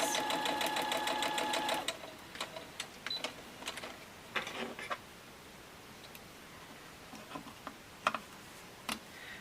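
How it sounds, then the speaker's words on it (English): A sewing machine stitches quilt fabric pieces in a quick steady whir for about two seconds, followed by scattered soft ticks and handling clicks at close range. "And we're sewing these with our 1/4 inch seam allowance."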